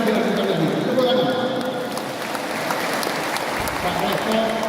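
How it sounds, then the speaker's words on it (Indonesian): Crowd applause at an academic gathering: a dense, continuous wash of clapping with voices mixed in, holding at a steady level throughout. "Tepuk tangan."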